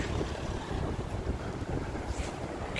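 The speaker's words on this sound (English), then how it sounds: "Ooh, super windy!" Strong wind roars and buffets the microphone in steady, heavy gusts at a Tokyo Metro Hibiya Line station entrance, with no voices.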